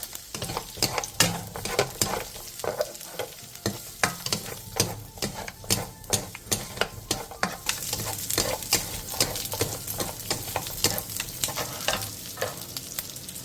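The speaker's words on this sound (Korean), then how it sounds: "팬에 기름을 두른 뒤 비엔나 소세지와 편마늘을 넣고 센 불에서 볶아주세요." Vienna sausages and sliced garlic stir-frying in oil over high heat in a pan, a constant crackling sizzle broken by frequent rhythmic scraping stirs, close and clear with no voices.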